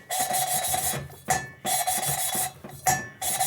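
A Shovelhead engine part is rubbed back and forth on coarse abrasive grit in three long, steady rasping strokes with short pauses between, close and loud with no voices.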